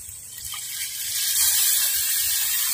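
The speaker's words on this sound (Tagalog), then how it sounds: "lagyan na natin ng tubig" Water pours into a cooking pot holding beef hide for beef pares, a steady close splashing gush that grows slightly fuller as it runs.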